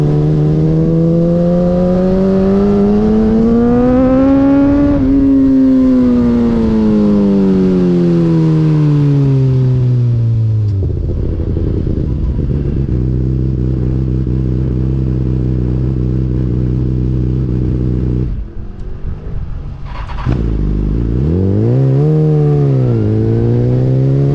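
A BMW S1000RR sportbike engine, its electronic throttle faulty, revs loud and close, rising and falling in long sweeps, then holds a steady idle before one more sharp rev and fall.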